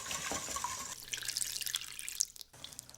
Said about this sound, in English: now I put all this fabulous custard on